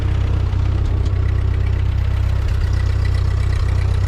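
An old Ford 9N/2N tractor engine idles close by, a steady, loud low throb with a regular pulsing beat and no talk.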